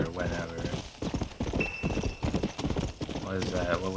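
Horse hooves clip-clop steadily in the Red Dead Redemption video game, with a short whinny near the start and end, and someone talking over the hoofbeats throughout.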